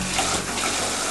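A faucet with a faulty diverter valve runs water from both the spout and the sprayer, making a steady, close hiss and splash with no voices.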